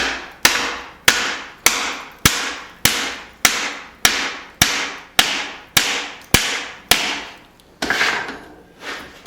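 A hammer strikes hot steel while a hatchet is forged and folded, landing about fifteen loud, evenly spaced blows with ringing decays, close up and without talk.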